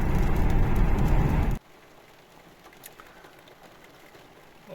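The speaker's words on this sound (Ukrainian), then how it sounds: "вже така злива почалася" Loud, dense rain roars for over a second, then cuts to a quieter patter of drops with scattered taps.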